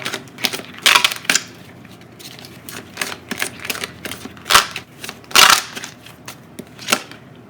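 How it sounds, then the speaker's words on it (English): Tarot cards being shuffled by hand give off a string of crisp, irregular riffling snaps and slaps. Bursts come every half second or so, and a few are louder. No one speaks. "So I'm going to shuffle some more cards."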